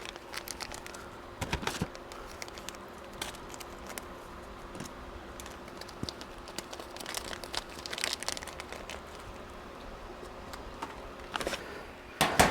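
A 500 cc packet is torn open by hand for long-term food storage, giving a close, quiet series of crinkling, rustling and tearing bursts spread across the moment with no talk.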